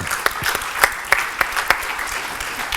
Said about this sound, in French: que l'on applaudit